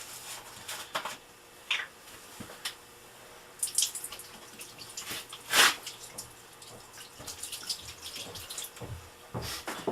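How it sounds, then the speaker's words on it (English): Liquid green cleaning product from a one-gallon kit poured onto spilled fuel oil on a generator room floor, heard as close, irregular splashing and trickling bursts that come and go over quiet background. "I'm going to use the 1-gallon kit and just start to pour it on"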